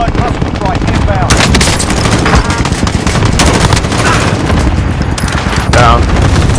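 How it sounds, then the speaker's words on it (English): Cluster strike explosions and automatic gunfire in a shooter game, a loud, dense barrage of rapid shots and booms close by, with a voice under the noise. "Allied cluster strike inbound."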